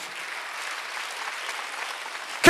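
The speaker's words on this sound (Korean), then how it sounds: "박수 한번 해주세요." Church congregation applauding during a Sunday worship service, a steady wash of clapping from many hands that carries on throughout and swells slightly at the very end.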